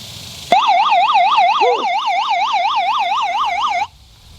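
Loud, close SOS alarm from a Libovgogo DF-585 emergency crank radio, a steady rapidly warbling electronic siren wail that starts abruptly, holds for about three seconds with a brief extra chirp, then cuts off.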